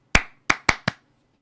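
Four sharp hand claps in an uneven rhythm, close and loud, ringing briefly in a quiet room during a film scene.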